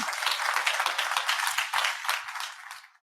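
An audience at a synagogue Shabbat talk gives a round of applause, a full, even wash of clapping from many people that stops abruptly after about three seconds.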